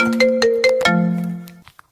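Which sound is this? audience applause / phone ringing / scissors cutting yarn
phone ringing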